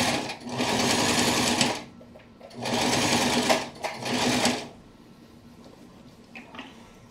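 A sewing machine stitching an apron runs in three rapid, buzzing bursts nearby, each lasting a second or two with short pauses between, then goes quiet.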